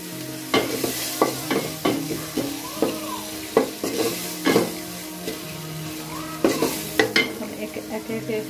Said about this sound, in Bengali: সাথে দিলাম হালকা একটু বড় মাছ যেহেতু আদা বাটা আর রসুন বাটা দিয়ে ভালো করে কষিয়ে নেব